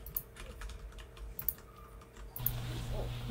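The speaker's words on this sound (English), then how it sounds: "I hear a lot of typing." Fingers typing on a computer keyboard, a quick, irregular run of soft key clicks at close range, quiet, then giving way to a low hum and faint background noise.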